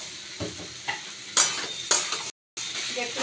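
Fig and prawn curry with added sugar being stirred in a pan: a few sharp scraping strokes over a low sizzle, with a brief silent gap near the end.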